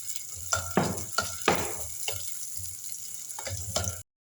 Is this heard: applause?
no